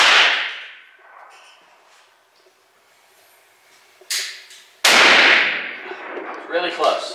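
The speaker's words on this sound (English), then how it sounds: "Go ahead, fire when you're ready." Guns fire at an open-air range, two loud, sharp reports several seconds apart, each ringing out with a long decaying echo, alongside quieter clicks and handling noise between shots.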